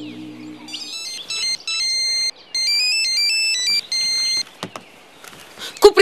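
A phone ringtone plays an electronic melody of bright, repeating beeping tones in bursts for several seconds, loud and clear, at a Russian detective TV series scene, with a few sharp clicks near the end.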